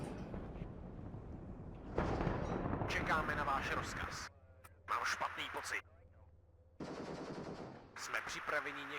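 DANA self-propelled howitzers in the WARNO video game fire at infantry, producing dense, loud bursts of booming gunfire and battle noise in several blocks, broken by quieter stretches with a low hum.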